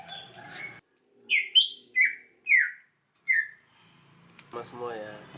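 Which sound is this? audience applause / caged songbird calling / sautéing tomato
caged songbird calling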